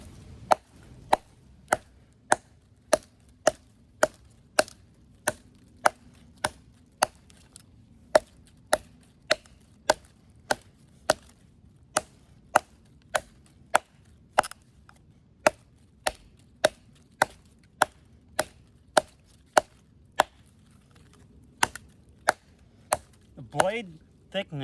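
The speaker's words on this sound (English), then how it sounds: "Just going to do some chopping here with the Cayman XXL." An Off Grid Caiman XXL knife chops wood in roughly thirty sharp, evenly spaced strikes, each a crisp close crack over a quiet background, with a brief rustle at the end.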